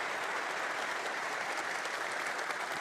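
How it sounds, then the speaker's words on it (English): Steady applause from a crowd, a dense wash of clapping that holds at an even level throughout, with no voices over it. "I'd really like to give them a round of applause"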